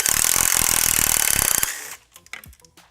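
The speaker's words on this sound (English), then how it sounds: "I think we can switch back to the 14, get this rear bolt out" A rapid pneumatic or power ratchet rattles loudly for about a second and a half while backing out a rear frame bolt on a 2017+ Kawasaki Z900 with a 14 mm socket, then stops, followed by a few light clinks of metal.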